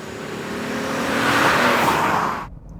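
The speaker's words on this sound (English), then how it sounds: "giving you that high rev feel and sound" A 2015 Acura TLX in Sport Plus mode revs its engine in a loud, rising swell of engine roar. The sound builds steadily, holds at its peak, then cuts off abruptly near the end.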